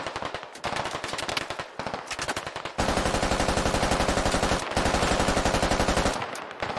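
Rapid automatic gunfire in the tactical shooter Squad Ops, loud close bursts of machine-gun fire with short gaps between them, sustained long volleys in the latter half, no talking.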